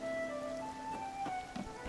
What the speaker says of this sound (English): I love rain so much